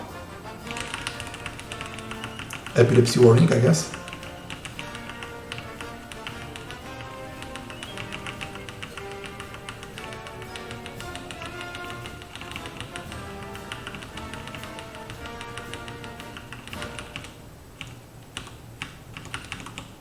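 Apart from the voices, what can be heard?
computer keyboard keys being typed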